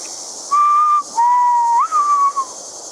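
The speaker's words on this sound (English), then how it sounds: "I definitely heard whistling in the distance." A person whistles a wavering tune in several short phrases, clear and fairly loud over a faint steady hiss.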